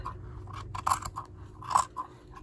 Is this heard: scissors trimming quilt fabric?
yes